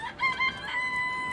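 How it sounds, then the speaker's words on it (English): A rooster crows in the afternoon in the countryside, one clear cock-a-doodle-doo heard from a moderate distance with no talk over it. "I've not heard a cock crow in the afternoon"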